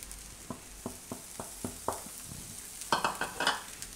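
Yogurt being stirred into a pan for dahi pava, a Gujarati flattened-rice dish: a steady series of spoon scrapes about every third of a second, then a louder, quicker flurry of stirring over faint sizzle, with no talk.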